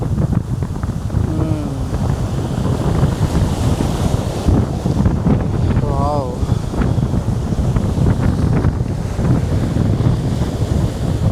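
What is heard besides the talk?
ocean waves on a beach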